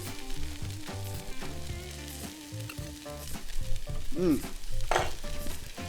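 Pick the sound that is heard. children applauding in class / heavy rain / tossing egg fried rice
tossing egg fried rice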